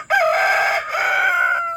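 A rooster crows loudly and close, two long drawn-out calls one after the other with a short break between them.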